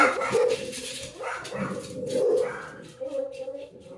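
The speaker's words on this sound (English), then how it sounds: "Okay, so I have two dogs and they're here with me." Two dogs bark and whimper close by indoors, short yips and whines rising and falling in bursts while someone talks over them.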